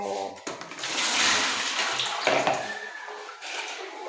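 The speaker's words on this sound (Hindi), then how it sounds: "ये पानी हमने निकाल दिया" Water pours and splashes as it drains from soaked raw potato chip slices into a basket, a loud, close rush that swells and eases over a few seconds.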